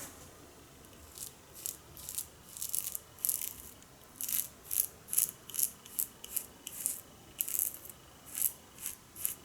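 A Merkur Vision safety razor glides through Proraso blue shaving cream in a steady run of crisp, close scraping strokes, roughly twenty short rasps repeating evenly, with no one talking.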